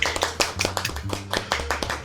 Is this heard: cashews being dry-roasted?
no